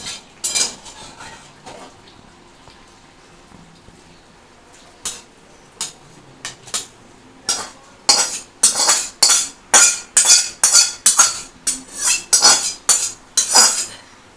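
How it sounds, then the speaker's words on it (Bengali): A metal spoon scrapes and clinks against a pan while ridge gourd, potato and poppy-seed posto curry is emptied out, starting with scattered knocks and building into a fast, loud, rhythmic run of scrapes near the end, with no talking. "এটাকে আমি এবার ঢেলে দেখাচ্ছি"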